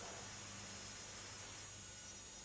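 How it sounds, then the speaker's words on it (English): A die grinder fitted with a small 1/4 inch spherical diamond burr carves human eyes into wood, giving a steady, close, continuous high whine with an even hum underneath and no speech. "diamond burr bit on the die grinder"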